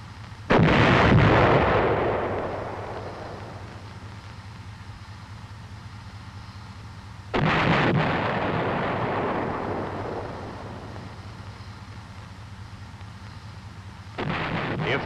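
The main gun of an M551 Sheridan armored reconnaissance airborne assault vehicle fires HEAT rounds in three heavy booms, each followed by a long rolling decay, with a low engine rumble underneath throughout.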